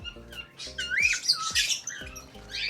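A sick cockatiel, unwell from cold, rainy weather, gives repeated harsh, close squawks and raspy calls in quick succession, with no people speaking.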